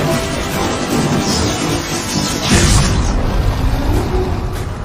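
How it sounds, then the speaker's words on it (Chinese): A heavenly lightning strike in ARK: Survival Evolved hits a serpent creature with a dense, continuous roaring crackle and a heavier thunderous surge midway, loud throughout with no speech. "小蛇蛇历经天雷轰击"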